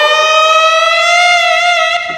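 A Yamaha arranger keyboard's saxophone voice holds one bright, buzzy note with a slow howling bend upward, loud and close, cutting off abruptly near the end.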